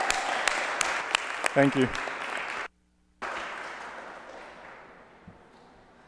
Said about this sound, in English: if we could all give him a round of applause